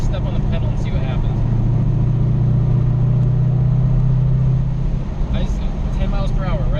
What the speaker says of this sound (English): So I'm currently in 5th gear at 1800 RPM. I'm going to step on the pedal and see what happens.